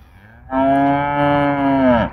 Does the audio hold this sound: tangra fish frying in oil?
no